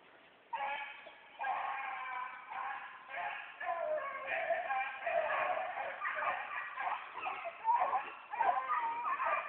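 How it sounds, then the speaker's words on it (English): A beagle whimpers and yips in a continuous series of high, wavering cries that rise and fall, moderately near and fairly faint, with scattered voices in the background. "That's that other dog, that chocolate looking dog."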